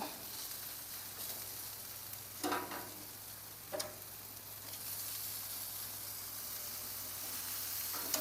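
Food frying in butter in a pan gives a steady, quiet sizzle and hiss, with a couple of brief scraping or tapping sounds partway through and no voices.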